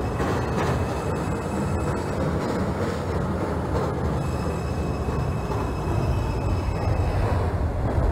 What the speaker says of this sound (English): This is a Brooklyn-bound 2 train.